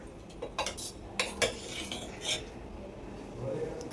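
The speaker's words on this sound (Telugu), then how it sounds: "ఇలా కలపండి చక్కగా" A spoon stirring dal in a metal pot, scraping and clinking against the sides in a few irregular strokes, close and moderately loud with quiet gaps between.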